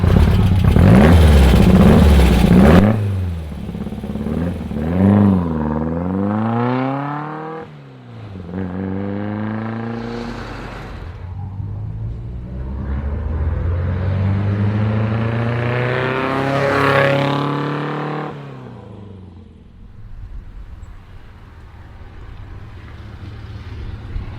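A VW TL fitted with a Motorav engine revs up through the gears, each pull rising in pitch before dropping at the shift, loud and close with no talk over it.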